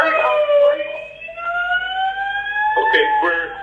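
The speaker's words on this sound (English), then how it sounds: "The fire alarm system has gone off." A building fire alarm sounds loud and close, with sustained rising tonal sweeps that repeat and a voice talking underneath during a teleconference briefing.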